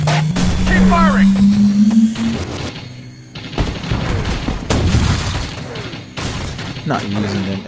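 Gunfire and explosions rattle in a busy battle in the mobile war game Empires and Allies, with booms, thuds and bursts of shots mixed with voiced commands and a loud rumbling engine drone.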